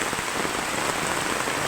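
Heavy rain pours steadily during typhoon flooding, a dense, constant hiss of drops hitting surfaces with no pauses or voices.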